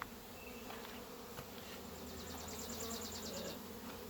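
Honey bees buzzing around mating nukes in an apiary, a steady, fairly faint droning swarm hum with individual bees passing near at times.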